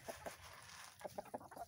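Backyard hens cluck in short, soft bursts, a few quick notes close by against a steady outdoor background.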